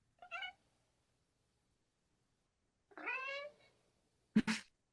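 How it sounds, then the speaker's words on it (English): A cat meows twice, spaced apart, then gives a short sharp yowl; the calls are close and clear against silence. "That doesn't sound like a fat cat."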